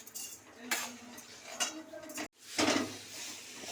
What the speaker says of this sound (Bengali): এবার আমি এই কড়াটা বসিয়েছি, গ্যাসে বসিয়ে দিয়ে